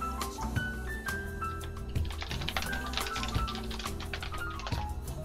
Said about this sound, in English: my keyboard sounds quieter in the recordings